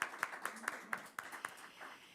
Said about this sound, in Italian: Facciamo anche un applauso.